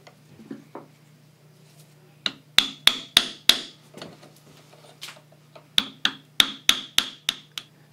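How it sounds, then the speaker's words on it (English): A bearing and dividing plate are pressed onto a Porter Cable drywall gun armature with a vise, heard as two close runs of sharp metallic taps, about five strikes each in quick rhythm, after a few soft handling clicks. "again we'll just use our vise to seat that in place"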